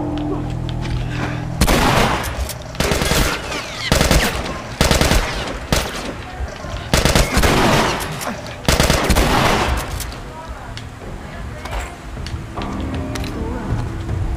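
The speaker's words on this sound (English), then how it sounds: "Pala ng labanan ng shotgun ah." Repeated loud shotgun blasts in The Last of Us, a burst of heavy booming shots coming in quick clusters and then spaced out, with game ambience between them.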